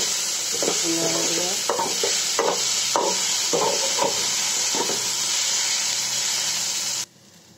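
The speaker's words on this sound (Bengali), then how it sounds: "আমার ভাজিটা প্রায় হয়ে এসেছে, আমি আবার একটু নাড়ে দিব" A spoon stirs bitter gourd and potato fry in a pan, scraping in several distinct strokes over a steady sizzle. The frying sound is close and loud and cuts off sharply near the end.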